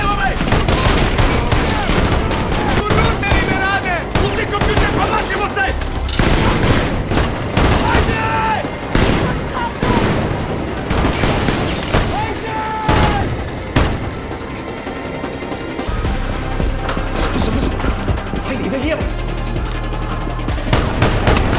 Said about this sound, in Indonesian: Jual beli tembakan semakin intens.